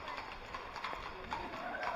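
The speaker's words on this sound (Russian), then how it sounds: "Лошадки." Horses' hooves clip-clopping on a street in Salzburg, a quick irregular run of hard knocks with a faint whinny and people talking in the background.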